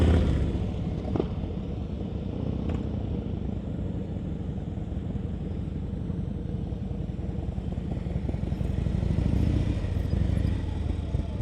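A motorcycle idles and putters through a slow-speed U-turn during a riding practice session, a steady low engine rumble held close throughout with faint clatter and no clear revving.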